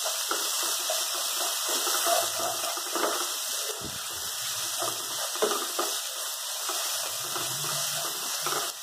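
Masala spices roasting in oil in a pan, a steady close sizzle and crackle with occasional light scraping from stirring.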